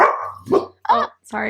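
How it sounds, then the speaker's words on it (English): A pet dog barks several times close by in a home, short loud barks in quick succession mixed with a person talking over them. "That's my dog."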